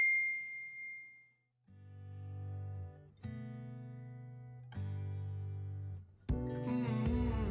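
A notification bell sound effect plays as a series of clear, chiming dings, one after another. Each tone rings out and sustains, and the final strike is fuller and brighter than the rest.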